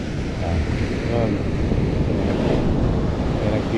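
Big ocean waves roll and crash at a fishing pier in Zambales, a loud continuous surf roar mixed with gusty wind buffeting the microphone, with faint voices underneath.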